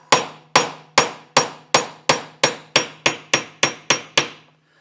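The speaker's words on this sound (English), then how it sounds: "take a chisel and I'm going to put it right in between this gear and this bearing and give it a light tap" A chisel driven by light hammer taps between a gear and bearing on a 1966 Mercury Merc 110 9.8hp outboard gearbox; twelve sharp metallic strikes ring out at a steady rhythm, close and loud, with no talk.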